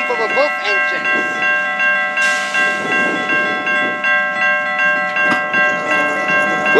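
A freight train pulled by two locomotives rolls past a crossing with a sustained horn chord, a ringing bell and hissing, loud and near, while someone talks.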